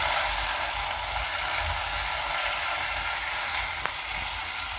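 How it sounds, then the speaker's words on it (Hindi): Onions frying on low heat in a pan for egg bhurji gravy, giving a steady, even sizzling hiss throughout with one small click near the end. "बिल्कुल कम सेक पे मैंने प्याज को पकाया है।"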